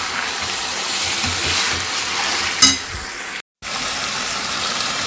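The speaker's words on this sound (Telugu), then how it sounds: "సో పసుపు వేసాను కదా, కాస్త మగ్గ పెట్టేస్తున్నాను అనమాట ఆయిల్లో" Chicken pieces with turmeric sizzle and fry in hot oil in a home kitchen, a steady crackling hiss with a brief stir or clatter partway through and a short dropout near the end, no talk.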